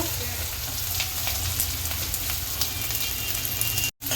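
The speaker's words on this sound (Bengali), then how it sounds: "পেঁয়াজটা একটু লাল লাল করে ভেজে নেব।" Chopped onion frying in a pan for a home-cooked curry, giving a steady, even sizzle close by that holds throughout with faint kitchen noise.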